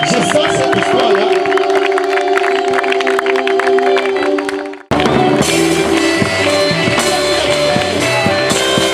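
A church congregation cheering and acclaiming the Lord during worship, loud crowd voices blended with music and singing, cutting out briefly midway before resuming just as strong.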